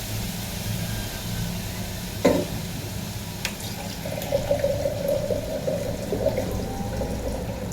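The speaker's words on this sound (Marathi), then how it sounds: "सगळं पाणी काढून टाकते. दुसरं पाणी टाकते थोडंसं." Water drained off and fresh water poured into a pot while cooking fenugreek or dill greens, a watery splashing pour with a sharp clank near the start, then sustained trickling and stirring sounds.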